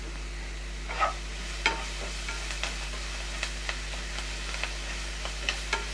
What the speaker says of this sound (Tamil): வெங்காயம், தக்காளி, பச்சை மிளகா, இஞ்சி பூண்டு எல்லாமே நல்லா வதங்கணும்